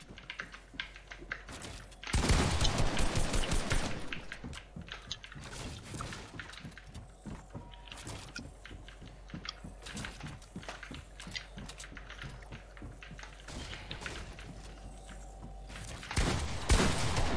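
Gunfire in an online shooter game, with loud bursts of rapid shots near the start and end and scattered single shots in between, heard alongside a steady clatter of keyboard typing.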